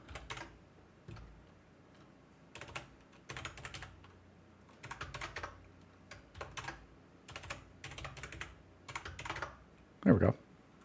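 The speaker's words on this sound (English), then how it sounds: "I was just typing in wrong." Bursts of computer keyboard typing come in short clusters of rapid key clicks, separated by pauses, close by, ending with a louder thump.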